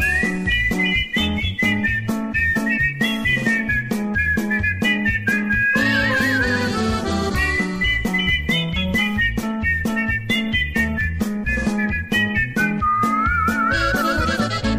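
A person whistles a melodic tune continuously and loudly over a steady rhythmic musical backing, the whistled line rising and falling in pitch throughout.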